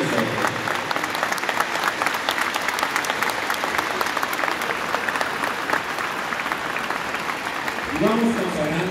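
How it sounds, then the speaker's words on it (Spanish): A crowd applauds steadily inside a Marian sanctuary during the arrival of the Virgins of Zapopan, Talpa and San Juan de los Lagos, a dense sustained clapping that continues evenly, with a voice briefly rising near the end. "vamos dándoles un fuerte aplauso a la Santísima Virgen María que está aquí en medio de nosotros."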